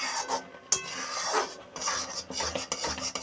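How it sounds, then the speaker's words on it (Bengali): A utensil stirs vermicelli in a kadai over low-to-medium gas flame, giving repeated metallic scrapes and clinks against the pan with a steady scratchy rhythm, close and fairly loud. "নাড়া দিতে হবে, নাহলে কড়াইতে নিচে বসে যাওয়ার সম্ভাবনা থাকে"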